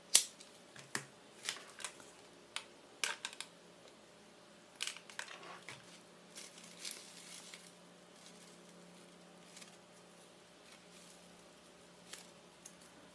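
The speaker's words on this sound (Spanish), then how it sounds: "cortamos el excedente del listón" Scissors snip off the excess ribbon while a medium-sized decorative bow is being made, giving a handful of short, quiet, separate cuts and rustles spread over a near-silent stretch.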